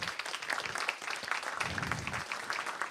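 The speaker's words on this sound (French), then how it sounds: "Félicitations aux nouveaux adjoints, aux 8 adjoints qu'on peut applaudir également." Steady applause from an audience at a town council meeting, greeting newly elected deputy mayors; dense, even clapping heard at a moderate distance, with no voices over it.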